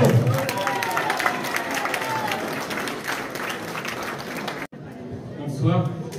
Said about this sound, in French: donc on peut applaudir Baptiste Philippot.